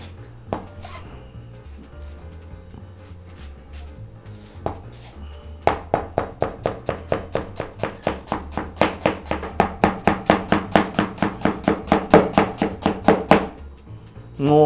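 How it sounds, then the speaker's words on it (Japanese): A knife finely chops onion on a board for shumai filling: a few scattered taps at first, then a long, fast, even run of crisp close chops that stops abruptly, with no talking. "まず玉ねぎ、みじん切りですね。 みじん切りにしていきます。"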